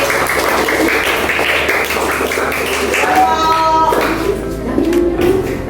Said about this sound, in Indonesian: Tepuk tangan untuk kelompok kulit